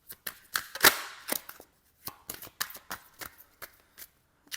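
A deck of playing cards being shuffled, with a burst of sharp riffling flutters near the start followed by a string of softer, irregular card snaps and slides, close and alone with no talking.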